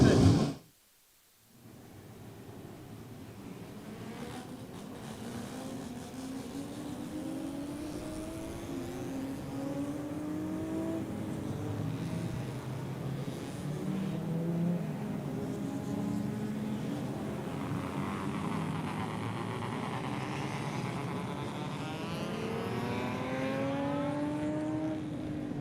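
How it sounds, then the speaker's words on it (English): Race car engines drone and rise in pitch as they accelerate, a sustained whine of several cars moving past at a distance at a classic car race meeting in Christchurch, New Zealand. "I can hear the cars going out"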